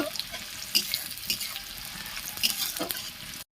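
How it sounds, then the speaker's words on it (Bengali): Chopped onions sizzle and fry in a pan while a spoon scrapes and stirs them in short, irregular strokes, close and fairly quiet, with no talking. "এই দেখুন বন্ধুরা, পেঁয়াজগুলো লাল লাল করে ভাজা হয়ে গেছে"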